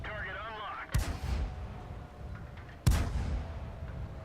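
Tank cannon fire from a T-34 in a video game, two heavy booming shots a couple of seconds apart, each with a rumbling tail, close and loud over quiet background hum.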